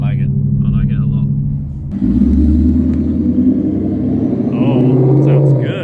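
A 2024 Mustang GT S650 with an X-pipe and muffler delete cruises past a house on light throttle, its deep exhaust rumble swelling up close over voices talking nearby.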